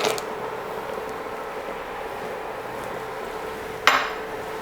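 A utensil stirs a thick brigadeiro mixture of condensed milk, cream and semisweet chocolate in a pan, giving soft continuous scraping and creaking. It ends with one sharp metallic clink near the end.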